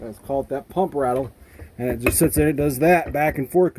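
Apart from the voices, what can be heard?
No everyday noise stands out behind the speech.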